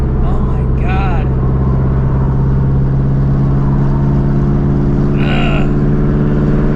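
A Procharged Shelby GT350 running on open headers gives a loud, rough, continuous engine roar with short rising revs, close by, as someone speaks over it.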